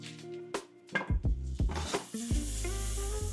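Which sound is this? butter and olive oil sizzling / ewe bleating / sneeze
butter and olive oil sizzling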